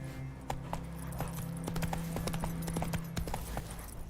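Roach the horse's hooves clip-clop steadily in The Witcher 3, a regular trotting rhythm of close, distinct hoof strikes over a constant low ambient drone, with no talking.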